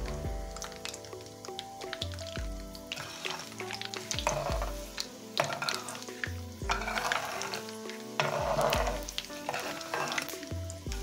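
Spices sizzle in hot oil as a tempering for carrot and pumpkin pickle, with a continuous crackling fry and repeated spoon stirs scraping the pan, close and fairly loud; background music plays underneath.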